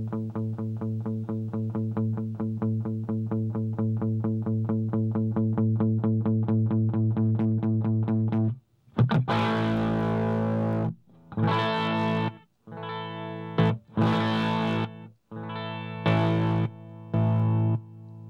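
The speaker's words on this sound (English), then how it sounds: "Now that overdrive you hear isn't the pedal distorting. It's the preamp on the amplifier behind me." Electric guitar rhythm played through an MK.4.23 clean boost pedal into an amp whose preamp overdrives: about eight seconds of steady, rapid picked chugging, then louder, crunchier chord hits separated by short pauses, with no talking.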